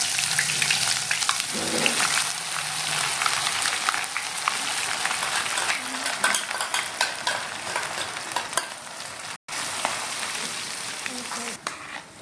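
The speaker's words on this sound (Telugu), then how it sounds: "మిక్సీ పట్టుకున్న అల్లం వెల్లుల్లి పేస్ట్ని ఇందులోకి వేసుకున్నాం" Ground ginger-garlic paste fries in hot oil with mustard seeds, cumin and dried red chillies, giving a dense, close sizzle and crackle with scraping stir sounds throughout.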